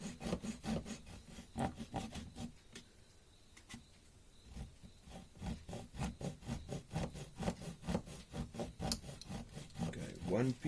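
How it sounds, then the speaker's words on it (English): A fine-toothed razor saw rasps back and forth through a small piece held in a miter box, steady close strokes in a regular rhythm with a brief pause midway. "making sure that the razor saw blade is running square to the miter box all the time, that we have a nice square cut"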